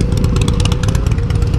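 A 2017 Harley-Davidson Dyna Low Rider S engine rumbles loud and close, with a steady, deep throbbing beat and no voices.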